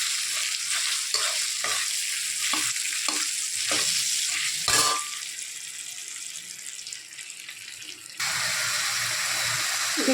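A fried hilsa fish head drops into spices sizzling in a pan with ginger paste, nigella seeds and mustard. A loud, steady hiss of frying runs throughout, with a burst of clattering stirring strokes in the first half.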